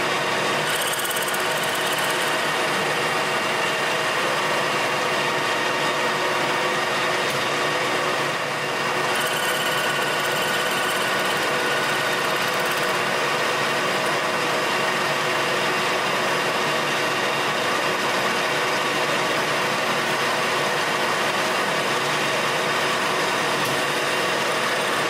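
A metal lathe facing the end of a metal part for a bearing edge finder, a steady continuous machining whine and hum, close and loud, with no pauses.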